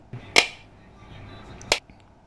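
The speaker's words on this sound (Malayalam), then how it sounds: "കോക്കനട്ട് പൊട്ടിക്കാൻ വേണ്ടി ഞാൻ ഒരു ഇരുമ്പ് കഷ്ണമോ അല്ലെങ്കിൽ വെയിറ്റുള്ള എന്തെങ്കിലുമാണ് എടുക്കുന്ന എടുത്താൽ മതിയാവും" Two sharp, loud cracks of a piece of iron striking a coconut, about 1.3 seconds apart, each a short hard knock against a quiet background.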